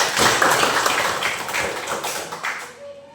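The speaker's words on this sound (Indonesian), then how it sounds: "Kita tepuk terima kasih Rena" A classroom of students clapping together in thanks, a brief burst of many hands patting at once that fades out toward the end.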